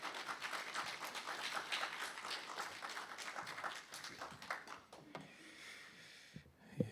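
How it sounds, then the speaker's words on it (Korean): Faint applause from a church congregation welcoming the pastor to the pulpit, steady dense clapping that thins out and fades toward the end. "우리 목사님 나오실 때 크게 환영의 박수 부탁드립니다."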